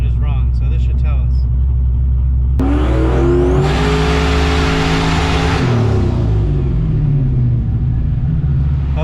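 A turbocharged small-block Buick V8 on a dyno, heard after a short burst of talk, climbs in a loud, rising rev with a sustained roar and then winds back down.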